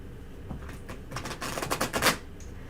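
Tarot cards are shuffled by hand in a quick run of crisp riffling flicks, faint at first and building to a denser burst before stopping.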